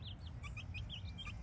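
Baby Brahmán chicks cheep in a string of high, quick peeps over a low background hum. The sound is soft and close, with no talking.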